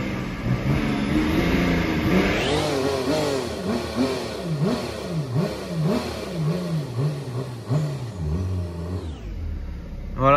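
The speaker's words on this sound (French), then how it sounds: "Et après on mettra un peu des coups d'accélérateur histoire de faire monter la pression. Donc on met quelques coups de gaz." A BMW 335d E90-series diesel engine receives a run of throttle blips. Each one rises and falls in a quick, repeated revving pattern, loud and close, before the engine settles back toward idle.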